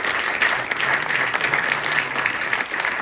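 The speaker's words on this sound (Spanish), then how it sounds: "que le recibimos con un fuerte aplauso" A dense round of audience applause at a basketball foundation event on mental health in sport, held in an aquarium, welcoming the aquarium's president. The clapping is loud, close and continuous, with no speech over it.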